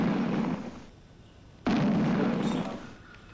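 Cannon-like gunfire in a hunting video game set in Canada: two heavy booming blasts, the second abrupt and loud, each trailing off into a rumbling decay.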